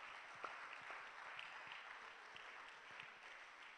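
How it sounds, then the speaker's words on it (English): Steady applause from a conference audience at a regional higher education research and policy gathering, a dense even patter of many hands clapping throughout, moderately distant and without talk. "Please clap if you want to clap."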